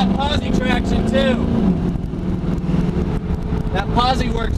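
A 1979 Pontiac Firebird Trans Am with posi-traction rear end accelerates out of a turn, its engine note rising loud and steady with someone talking over it throughout.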